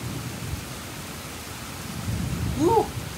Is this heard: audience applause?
no